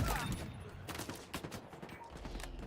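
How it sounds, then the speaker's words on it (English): Dense gunfire from many directions in a Halo match during collegiate esports playoffs: overlapping rapid shots and bursts, loud and continuous, with faint game sounds underneath. "Gunfire from just about every way."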